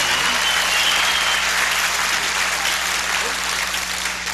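A crowd at a country music show applauds, a loud, sustained wash of clapping that holds steady throughout and tapers only slightly at the end.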